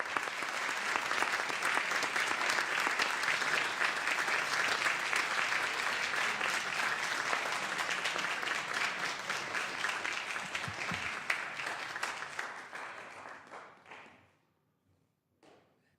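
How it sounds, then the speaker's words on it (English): A room full of people claps steadily for several seconds in a legislative floor session honoring heroes, the applause fading out near the end. "let's have one more round of applause for all of our heroes here today."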